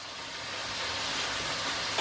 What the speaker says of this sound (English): Just simmering away kind of thing, or shallow frying